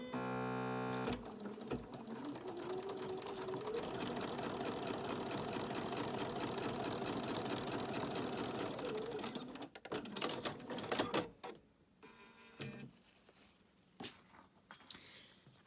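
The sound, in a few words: sewing machine stitching binding on a mini quilt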